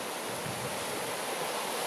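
Creek water flowing under a bridge after a week of drying, running at normal flow between its banks: a steady, even rush of moving water with no voices.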